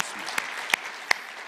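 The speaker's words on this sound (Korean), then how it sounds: "모든 교우들 박수 못 받으신 분들 함께 박수하면서 축하하겠습니다" A church congregation at a Lunar New Year service applauds together, a steady crowd-wide clapping wash with a few sharp louder claps standing out close by.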